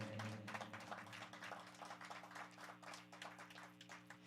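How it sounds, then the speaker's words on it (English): Audience at a live stand-up-style performance clapping for the performer, a quiet but steady patter of many hands over a faint low hum. "they were clapping for me"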